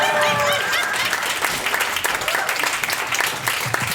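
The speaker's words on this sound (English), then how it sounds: "Feel free to clap for my guests." An audience at a live holiday comedy special claps for arriving guests in a steady wash of applause, with a little laughter and some speech early on.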